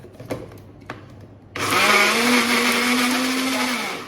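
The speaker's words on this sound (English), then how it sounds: "it's already started forming the peanut butter, so I'll just keep blending that for a sec" A kitchen blender grinds peanuts into homemade peanut butter, starting abruptly after a few faint clicks and then running as a loud, steady whirring motor with a rising pitch that holds until the end.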